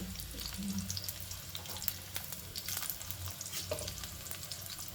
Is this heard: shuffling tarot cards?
no